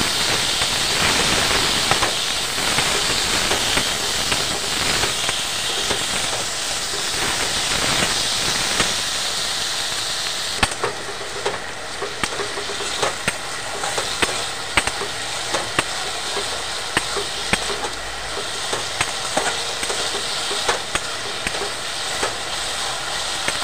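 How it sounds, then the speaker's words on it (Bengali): Okra stir-frying in a pan with a Bengali mustard and poppy seed masala: a steady close sizzle and hiss runs throughout, with frequent sharp clicks and scrapes as the spatula stirs, the sizzle easing slightly partway through. "মশলার সাথে ঢ্যাঁড়সটাকে ভালো করে কষিয়ে নিয়েছি"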